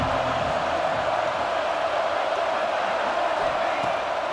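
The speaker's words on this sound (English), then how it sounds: "This Auburn crowd trying to conjure up a little magic here on third down." Stadium crowd noise in the video game College Football 26 at an Auburn game on third down: a steady, dense roar of cheering fans that stays loud and continuous throughout.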